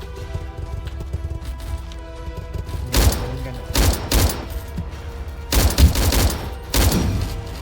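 Gunfire in Rolling Thunder, a Vietnam War video game: loud, close bursts of shots in four clusters, set apart by short pauses over a low background hum.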